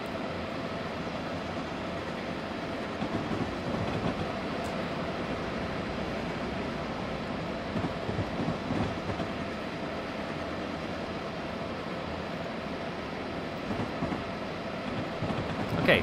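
An ACS-64 electric locomotive hauls a train through the night in Train Simulator 2016, with a steady rolling rumble, broadband track noise and faint rail clicks running evenly the whole time, no speech.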